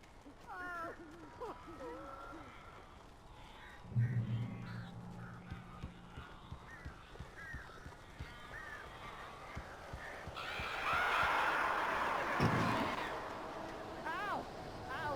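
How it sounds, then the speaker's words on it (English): Crows cawing in the horror video game Alan Wake: harsh caws recur through the scene amid eerie ambience and a low rumble, with people talking over them. "These birds are weird."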